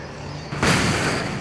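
A flashbang grenade in the Alan Wake video game, a single muffled boom with a broad, lingering burst after a quiet lead-in, fairly loud and heard alone.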